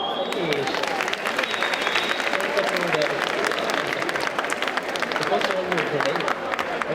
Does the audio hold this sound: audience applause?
yes